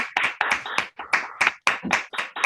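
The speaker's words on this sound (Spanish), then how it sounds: "un aplauso para el doctor Carlos Miguel, por favor" Close, distinct hand claps in a quick uneven series, about a dozen separate slaps with short gaps, sounding like a small group or a single nearby person applauding a speaker after a talk on earthquakes.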